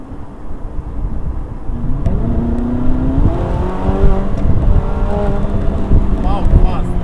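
Ferrari 458 Italia with manual gear changes accelerating during a test drive, engine note climbing in rising steps through the gears, loud and close from inside the car, with occupants talking over it.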